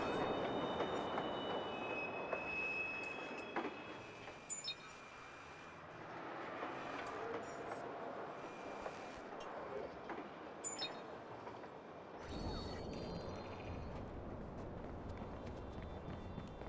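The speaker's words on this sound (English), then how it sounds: "Southbound train arriving shortly." A southbound train pulls into a station in Watch Dogs, a continuous rumbling roll with squeals and metallic screeches. About twelve seconds in, a louder wash of rail noise takes over.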